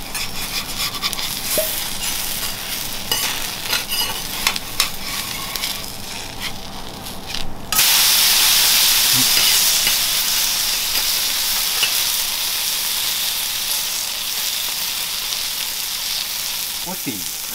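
A cabbage-heavy okonomiyaki sizzles on a hot griddle; after a flip midway the frying jumps to a louder, brighter hiss that holds steady to the end.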